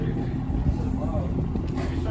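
A supercharged LSA engine in a Cadillac CTS-V with the muffler deleted idles with a deep, steady rumble throughout. People are talking over it.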